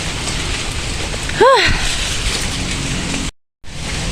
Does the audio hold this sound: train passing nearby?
no